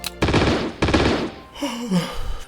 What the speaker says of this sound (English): I'm going to add a gunshot in editing when I press this.